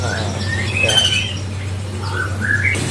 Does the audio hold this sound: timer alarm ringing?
no